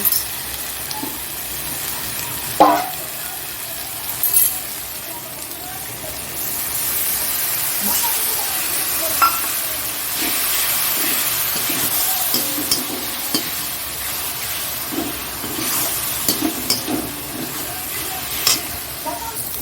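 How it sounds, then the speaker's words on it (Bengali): Spices and tomato with a little water sizzle and hiss in a hot pan while a utensil stirs and scrapes now and then, with someone talking intermittently over the cooking. "দেখো মশলাটা ভাজা হয়ে গেছে"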